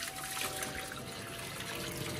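Hot water from boiling saltfish poured off into a sink, a steady close trickle and splash throughout with no talk.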